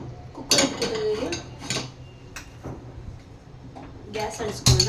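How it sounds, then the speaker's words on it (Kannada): Metal pressure cooker set down on a gas stove in a home kitchen while making sambar, a few clattering knocks and clinks of the pot against the burner, close and fairly quiet, with a voice talking around them. "ಕುಕ್ಕರ್ ಇಟ್ಕೊತಿದ್ದೀನಿ."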